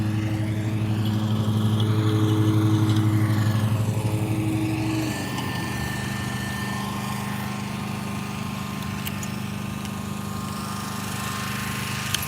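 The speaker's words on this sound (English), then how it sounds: "Let me walk away because they cutting grass." A lawn mower runs steadily nearby outdoors while grass is cut, a continuous droning engine that is louder at first and then eases to a slightly quieter constant hum.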